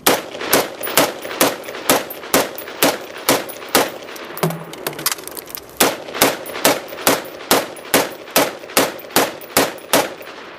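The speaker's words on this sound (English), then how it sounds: "Now we'll shoot the same target array with 2 10-round magazines." Rapid, evenly spaced gunshots ring out one after another across a target array, a sharp loud crack roughly every half second with a short break midway for a magazine change between two 10-round magazines.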